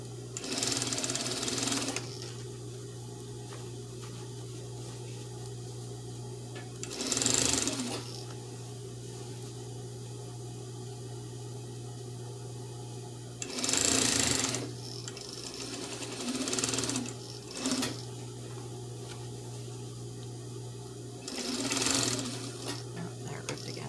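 A sewing machine stitches fabric for a market bag in short separate runs, each a few seconds of rapid whirring, with a low steady hum between bursts.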